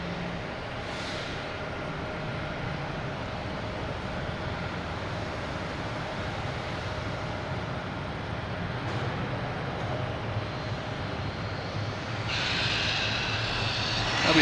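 A Lufthansa airliner from Munich passes at Boston Logan Airport at night, a steady broad engine rumble that holds throughout and grows slightly louder and brighter near the end.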